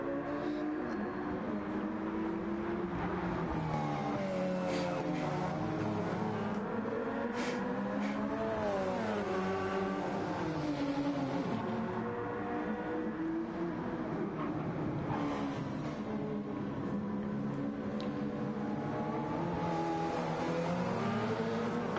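Race car engines in Gran Turismo 7 during a 24-hour Nürburgring race, a dense, continuous layered drone of several cars whose pitches rise and fall as they accelerate and shift, steady and moderately loud.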